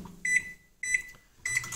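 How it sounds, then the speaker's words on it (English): A microwave oven heating glycerin shaving soap in short runs, giving three brief beeping tones separated by quiet pauses. "put them in this microwave oven right above me for 10 seconds at a time"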